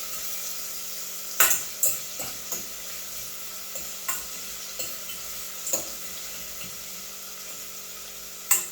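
Ackee and salt fish sauté in a pot with a steady soft sizzle, broken by a series of sharp clinks and scrapes from stirring at irregular intervals, close and without talk.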